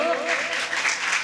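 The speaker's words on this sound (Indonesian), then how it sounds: "Boleh tepuk tangan dulu." Brief applause from an audience at a youth health dialogue session, a short burst of clapping with a voice trailing off at its start.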